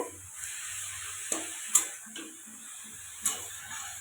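Fish stirred with spices and cumin powder in a pan gives a steady high sizzle, with a few distinct spatula scrapes and taps spaced across a few seconds.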